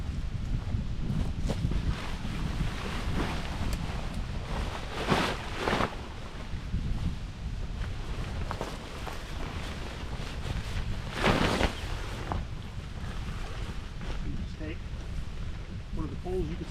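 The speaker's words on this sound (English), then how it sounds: "it's a little breezy today" A breeze blows outdoors during a rooftop tent setup, rushing in gusts across the microphone under a steady roar while a person talks.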